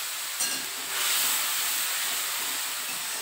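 Nigella seeds and spice paste hitting hot oil in a home kitchen pan, giving a bright, steady hiss with a brief louder sizzle burst near the start, with no voices over it.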